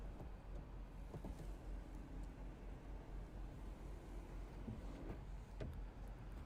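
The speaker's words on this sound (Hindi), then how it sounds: "और ये है वॉइस असिस्टेड इलेक्ट्रिक सनरूफ" The voice-assisted electric sunroof of a 2023 Tata Nexon EV Empowered+ LR runs its motor, giving a steady, low mechanical whir inside the cabin with a few faint clicks and no talking.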